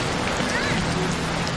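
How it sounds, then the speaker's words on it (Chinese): Steady rain falls as a dense, even hiss with soft patter throughout, with faint background sounds and no voices. "下雨了。"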